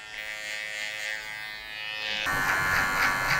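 An electric hair trimmer clears hair on the neck during a low fade haircut, a close, continuous buzzing hum that shifts pitch and brightens partway through as the blades meet the skin.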